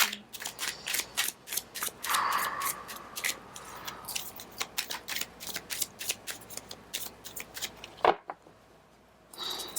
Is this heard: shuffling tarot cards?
yes